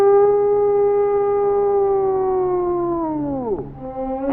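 A single person's voice imitates a coyote howl, one long sustained wavering tone that slides slowly downward, dips sharply near the end, then rises again briefly, loud and close with no other sound.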